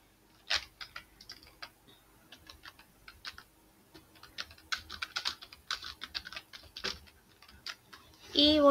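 A topic is typed on a computer keyboard, a close series of quick, light key clicks in irregular bursts with short pauses, ending with a brief voice.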